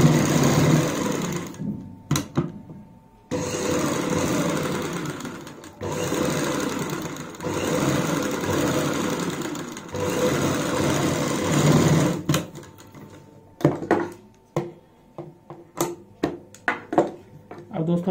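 A sewing machine stitches the side seam of a kurti in several runs of rapid, steady whirring, separated by short pauses, with a voice talking over and between the bursts.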